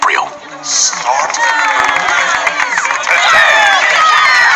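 Murmuring crowd noise inside the Minecraft Story Mode video game, a steady dense babble of many voices mixed with game music and effects, loud and continuous throughout.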